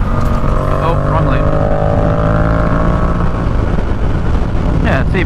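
Yamaha MT-07 motorcycle accelerating to pass on a highway, a steady close engine drone under heavy wind rush that rises in pitch as the throttle opens.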